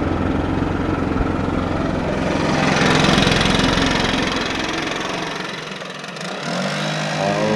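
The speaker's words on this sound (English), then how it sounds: "I just get the blower out and start blowing out of the street right there" A gas-powered leaf blower roars steadily nearby on a residential street while clearing leaves, a loud constant engine drone that swells briefly and dips slightly toward the end.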